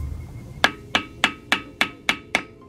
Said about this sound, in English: And then you're just gonna get a hammer.